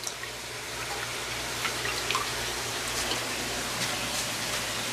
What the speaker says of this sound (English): So I'm trying to get as much of this tank drained as I can to fill it up with him